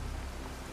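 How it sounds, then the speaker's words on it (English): Rain falls in The Witcher 3 video game, a soft, steady wash of patter heard faintly for under a second with no voices. "It's raining."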